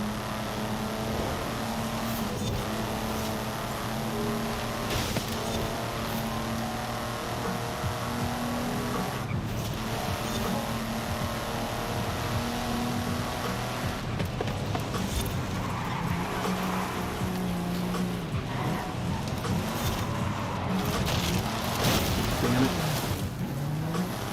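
A Porsche drives in a video game, a steady engine drone with shifting revs and tones running throughout under game sounds and occasional chatter.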